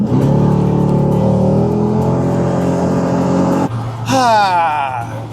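A Chevy car accelerates along an open country road with the windows down, its engine a loud, close, steady rising drone that cuts off abruptly near the end as a higher shifting whine and a voice take over.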